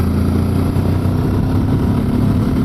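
Close, loud Benelli TRK 702 motorcycle engine held at steady revs with a throaty, pulsing rumble, no speech.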